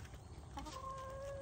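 A chicken near a winter beehive gives a brief cluck followed by a short, drawn-out tonal call, moderately close and alone.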